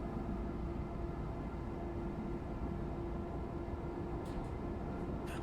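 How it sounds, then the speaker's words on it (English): An intercity train rolls past on the Rosenheim–Salzburg line in Train Sim World 4, giving a steady, faint, continuous rumble with a sustained tone and no talk. "Looks like an intercity train, I think."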